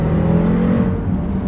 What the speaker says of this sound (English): this car is so loud, it's so mean, it's got such a soundtrack to it